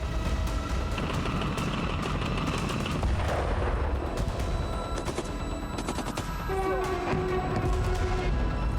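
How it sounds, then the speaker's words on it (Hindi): Sustained rumbling gunfire and booming impacts from a Russian rocket launcher attack on Ukrainian military positions near Pokrovsk, a dense, steady roar of bursts and blasts with tonal whistling streaks toward the end. "रूसी सेना ने यूक्रेनी सैन्य ठिकानों को रॉकेट लॉन्चर से हमला कर ध्वस्त कर दिया"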